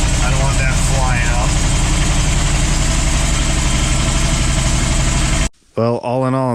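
A 1964 Chevy K20 truck engine, pieced together from parts with the hood unlatched, drives loudly and steadily in third gear for over five seconds before it suddenly cuts out and a voice speaks.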